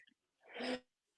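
A single person lets out one close, forceful sneeze: a quick intake and then a burst lasting about half a second, alone in a quiet room.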